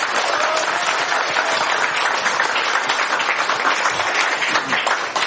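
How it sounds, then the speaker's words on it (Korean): A room of party members at a committee meeting bursts into sustained, loud applause approving a chair's confirmation, dense clapping filling the whole span without pause. "없으시면 큰 박수로 인준하도록 하겠습니다"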